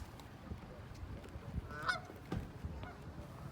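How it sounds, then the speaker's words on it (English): Canada geese honking outdoors by water on a boardwalk near mountains, a few brief honks at moderate distance over a steady low background rumble, with ducks nearby. "There's some Canada geese and ducks."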